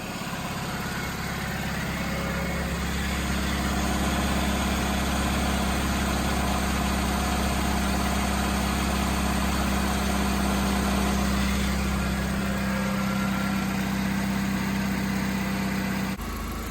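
A 2005 Chevy Malibu with a 2.2L engine idles steadily after a head gasket replacement, a continuous low, even rumble with a mid-range hum that runs unbroken and close for the whole stretch.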